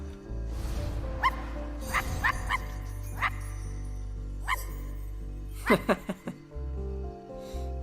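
A dog in the video game I Am Dead gives several short barks and yips. They come in scattered bursts with a louder cluster near the end, over a steady droning background of game music.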